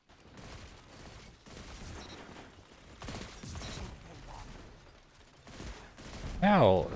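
A pulse rifle firing in Destiny 2, with repeated short bursts of rapid shots in a regular rhythm, fairly close and moderately loud, ending in a brighter swelling effect.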